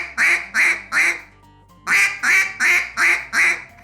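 A mallard duck call blown in a descending cadence, a set of loud, close quacks: three evenly spaced notes, a short pause, then five more in a steady stair-stepping rhythm.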